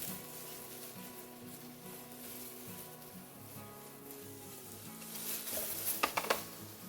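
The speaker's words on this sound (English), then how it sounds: "We'll toss the mushrooms in the oil until they're golden brown." Button mushrooms fry in oil in a pan for a bok choy stir fry, a soft steady sizzle with faint crackle and a few sharp clinks of stirring near the end.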